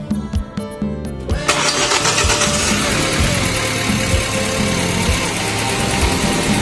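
A car engine cranks with a few quick starter pulses, then catches and settles into a loud, steady idle right after an oil change.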